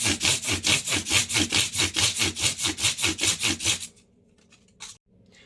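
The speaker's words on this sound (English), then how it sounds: "so the sandpaper just slides from fret to fret" 320-grit sandpaper rubbed back and forth over stainless steel guitar frets, a fast, steady run of about fifteen rasping strokes, close and clear, then stopping into near silence with a faint scrape.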